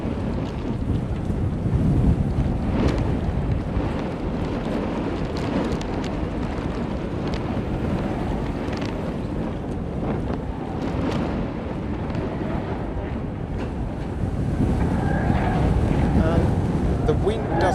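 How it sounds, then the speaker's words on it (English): Strong outdoor wind buffets the microphone at the start line of a sailing race during practice in Ireland, a continuous roaring rush that swells louder near the end, with no talk heard. "And the wind doesn't get any easier."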